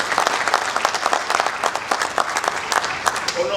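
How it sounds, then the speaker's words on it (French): Audience at a book launch in a formal ceremony hall applauds a professor, a brisk, continuous clatter of many hands throughout, moderately loud and sustained from start to finish. "Sous vos applaudissements,"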